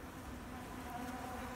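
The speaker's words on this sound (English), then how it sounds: "I didn't think the bees would come out again this year, to be honest with you." Bees buzz around a feeder holding leftover syrup poured from jars, a faint, steady hum with no one speaking.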